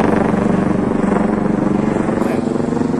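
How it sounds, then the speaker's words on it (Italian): A helicopter passes overhead in Italy, its loud, close rotor throb pulsing steadily and filling the whole moment. "Adesso sta passando anche l'elicottero"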